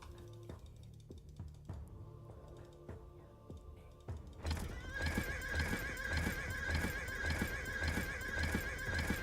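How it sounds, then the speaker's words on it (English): Horses in Age of Empires 4 neigh and whinny over a steady clatter of hooves, which swells louder and denser halfway through as more cavalry joins, a continuous busy game soundscape. "I actually like the horse noise is very peaceful."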